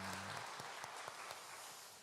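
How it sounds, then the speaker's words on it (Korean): A church congregation at a revival service applauds the combined choir after its hymn. The applause is faint and distant and lasts only briefly. "우리 사랑의 박수를 한번"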